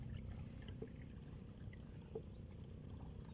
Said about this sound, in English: You can hear the sound of a pump boat